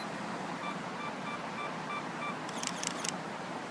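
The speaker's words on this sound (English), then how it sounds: "I press the shutter button" A camera shutter fires in a quick burst of three or four sharp clicks near the end, preceded by faint regular self-timer beeps, all over a steady outdoor wash of wind and surf by the water in Miami.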